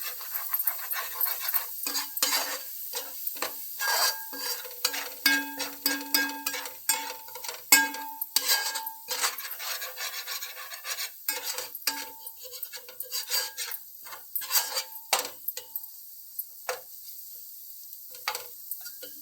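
A spoon stirs and scrapes Andhra-style fish curry masala with fenugreek in a hot pan. Sizzling frying runs under irregular metallic clinks and scrapes, close and fairly busy, fading to sparse taps near the end.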